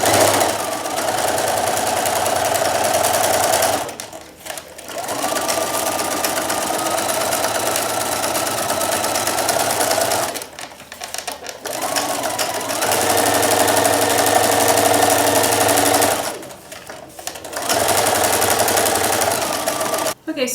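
A sewing machine stitches an oven mitt in steady, close whirring runs, stopping briefly three times as the needle drops and the fabric pivots before sewing resumes.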